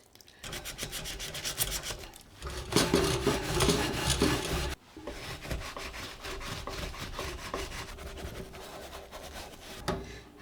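A crumpled aluminum foil ball scrubs an oven rack with a close, gritty back-and-forth scraping that surges louder in the middle and continues without pause.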